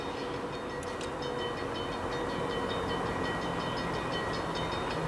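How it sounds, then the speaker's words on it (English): A New York, Susquehanna and Western freight train with a few boxcars rolls south along a street in Utica, New York, giving a steady close rumble with rhythmic wheel clicks and squeals and no voices. "Got a few boxcars in the train."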